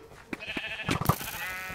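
Sheep bleat in the video game Sheep Quest 2, several short nasal bleats in quick succession, some overlapping, over soft background game sounds.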